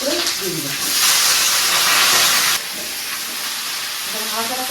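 Long-cut radish, potato and bottle gourd stems fry in a pan and are stirred, with a loud burst of hissing sizzle in the middle and a voice briefly heard at the start and end.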